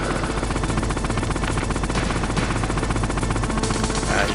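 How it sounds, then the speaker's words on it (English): Missile fire from a helicopter in the Metal Gear Solid video game, a dense, loud, continuous roar of rapid gunfire and rotor noise with no pauses. "He's firing the missile now."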